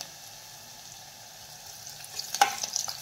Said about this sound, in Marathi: लसूणही छान परतून घ्यायचा आहे।